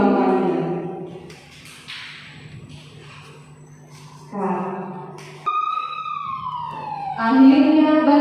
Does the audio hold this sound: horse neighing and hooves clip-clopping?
no